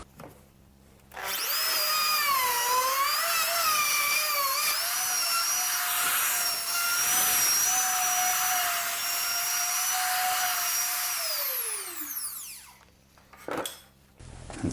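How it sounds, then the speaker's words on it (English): A router plunges into a wooden template jig used for fitting hardware. Its loud, steady high whine holds for about ten seconds, then winds down in a falling pitch as the motor coasts to a stop, with no talking. "And common sense tells me to let the router stop completely before I pull it out of here."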